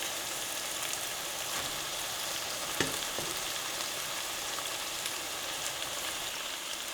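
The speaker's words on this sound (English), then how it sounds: "Now I want to get a little bit of a brown on these gnocchi" Gnocchi browning in a hot pan give off a continuous even sizzle and crackle, close and steady, with one or two brief knocks from the pan partway through and no talking.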